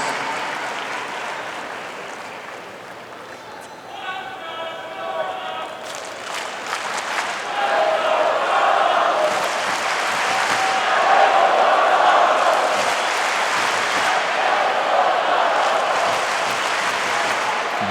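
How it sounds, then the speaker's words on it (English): A US Open tennis crowd at a 2021 third-round match between Carlos Alcaraz and Stefanos Tsitsipas breaks into sustained, swelling applause and cheering that builds to a loud roar, with a commentator talking over it. "This crowd is loving him."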